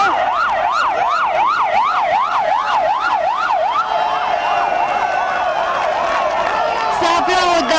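An SMUR ambulance siren wails loudly during a street protest at Piața Universității in Bucharest, its pitch sweeping up and down in a fast regular cycle, then shifting to a different siren pattern over crowd noise.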